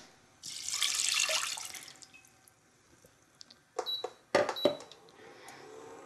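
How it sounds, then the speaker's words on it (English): Water poured from a cup into a saucepan holding half a cup of spelt, a rushing splash that builds and fades. It is followed by a few sharp clinks and taps of the cup or pan, close and clear. "So now we're going to add in a cup of water"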